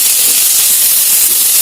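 Ghee sizzles in a hot pan with a steady, bright, hissing crackle that stays loud and even throughout, with no voices.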